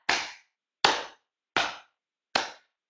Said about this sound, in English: We'll use our hands to clap.